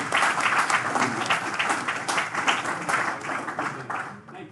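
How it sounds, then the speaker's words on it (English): Audience at a club meeting gives a warm round of applause for a new member, a loud burst of clapping from a roomful of people that holds steady then tapers off near the end. "Let's give Matthew a big round of applause for his"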